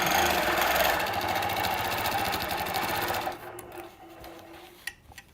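A sewing machine runs fast and close while stitching a quilt border with a scrolling S-curve template, giving a loud rapid mechanical whir that slows and stops partway through and is followed by a few faint handling clicks.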